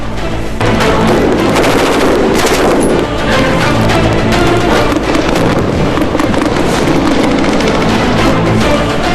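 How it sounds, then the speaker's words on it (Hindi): Sustained loud gunfire from SSG commandos practising on a firing range, dense overlapping shots and bursts filling the whole stretch with no talk. "ये यहाँ पे एसएसजी कमांडोज जो है वो अपनी फायरिंग की प्रैक्टिस करते हैं।"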